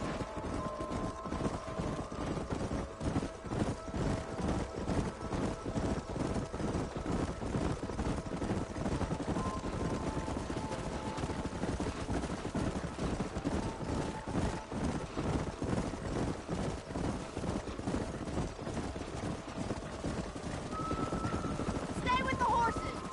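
Horses run in Red Dead Redemption, their hoofbeats drumming in a steady, fast rhythm that lasts throughout under a constant low rumble of game ambience.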